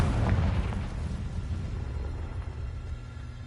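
A Confringo fire spell explodes in a video game with a deep, rumbling boom up close, then a low roar fades away over a few seconds.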